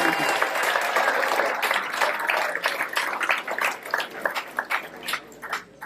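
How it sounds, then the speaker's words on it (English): A crowd at a tennis banquet applauds, a dense burst of clapping that gradually thins into scattered individual claps with some voices mixed in. "So round of applause to Alex and Nadia."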